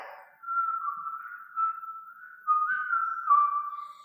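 A single person whistles a few sustained, wavering notes with small pitch slides, clear and close, imitating a sparrow's call.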